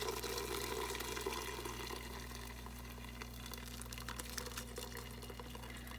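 Milk curds strained through cheesecloth while homemade cheese is made, heard as a faint, steady trickle and splash of liquid over a constant low hum, with no talking.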